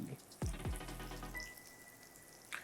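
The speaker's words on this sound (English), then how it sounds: "The sizzle is there." Oil sizzles steadily in a frying pan, a continuous crackling hiss with a couple of low thumps early on and a thin ringing tone partway through.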